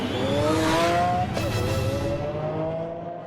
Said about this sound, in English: the prototype model takes to the track to be put through its paces for the first time